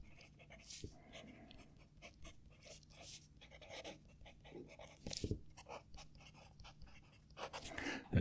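A double broad nib fountain pen scratches across paper in close, soft strokes, with faint breathing-like rustle and small taps running steadily underneath.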